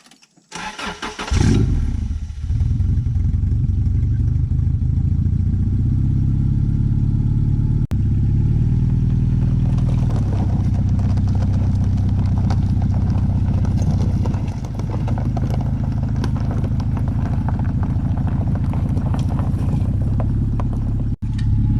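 A homemade UTV's small engine, with no exhaust fitted, sputters to life and then runs loud and raw, a harsh unmuffled chugging that holds steady with slight changes in pace.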